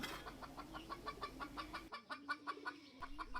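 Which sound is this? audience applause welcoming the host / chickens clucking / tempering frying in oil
chickens clucking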